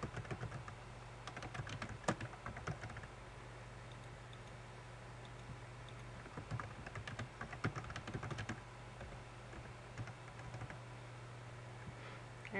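Keys clatter on a computer keyboard as a note is typed in sales software: quiet, close clicking in irregular bursts with short pauses, no talking.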